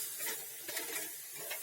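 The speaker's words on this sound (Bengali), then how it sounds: "এবার এটাকে নেড়ে নেবে" Masala paste stirred in a hot pan while making chicken curry with potatoes, a soft scraping and sizzling close by with no talk.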